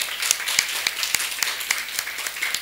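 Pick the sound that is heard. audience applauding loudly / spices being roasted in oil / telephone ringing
audience applauding loudly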